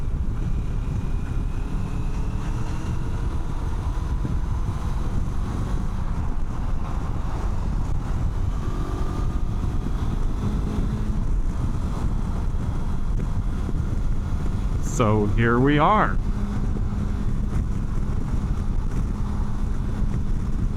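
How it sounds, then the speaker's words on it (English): Loud, constant wind roar buffets the microphone over the steady low drone of a 2026 Kawasaki KLE500 engine at about 70 mph on the highway, with a brief sweeping whine partway through. "This engine's spinning pretty quick at 70 miles per hour."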